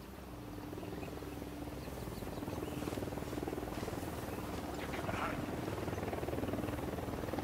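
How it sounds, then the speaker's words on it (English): In Ghost Recon Wildlands, a helicopter approaches during an attack on a hacienda, its low, steady rotor drone rumbling continuously beneath faint ambient noise with a slight rise in loudness, no speech over it. "Chopper incoming."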